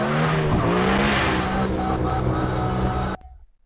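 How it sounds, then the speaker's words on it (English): A drift car in the CarX Drift Racing video game roars loudly with a revving engine and squealing tires, a dense sustained blast that cuts off abruptly near the end. "And the car is so massive loud."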